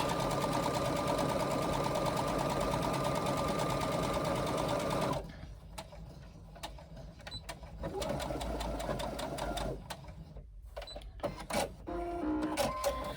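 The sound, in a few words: sewing machine stitching a quarter-inch seam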